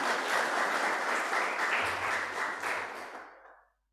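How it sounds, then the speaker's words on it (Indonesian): A church congregation at a Salvation Army holiness service applauds new local officers, a dense sustained clapping that holds steady, then thins and fades out over the last second, alone without talk. "mari kita beri tepuk tangan untuk para opsir setempat yang baru"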